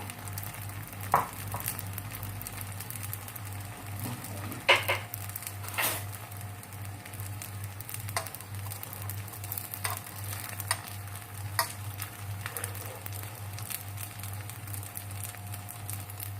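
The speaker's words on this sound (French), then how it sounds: "Donc ma poêle est bien chaude. Je pose ma cheese naan dessus. Un peu d'huile." A cheese naan laid in a hot pan with a little oil, giving a soft, low, continuous sizzle with occasional small pops over a steady background hum.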